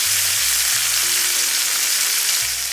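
Thyme-seasoned steaks with a nice crust fry in a pan after being flipped, giving a loud, steady, close sizzle with a faint low hum underneath and no talking.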